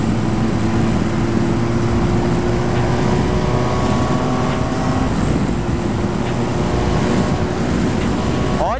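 A 2021 BMW R1250 GS Adventure motorcycle revs under acceleration while riding, its engine drone steady and loud throughout, with rushing wind noise over the microphone.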